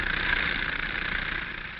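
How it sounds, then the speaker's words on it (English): Gasoline-engine-driven air compressor powering air hammers at a 1940s highway construction site, a steady loud idling engine drone running continuously without pause. "The power is furnished by an air compressor, which is run by a gasoline engine."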